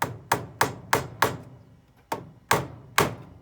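A hammer drives a nail into a wooden bird feeder piece with eight sharp, evenly spaced knocks, close and clear, with a short pause midway.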